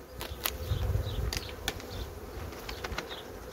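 A steady, low buzzing of a honeybee colony fills the space, with occasional individual bees zipping closer past the listener.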